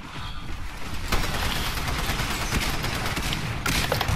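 Spitfire light machine gun in the shooter game Titanfall firing a sustained, rapid burst of automatic gunfire, dense and steady for several seconds with a sharp rise in intensity partway through.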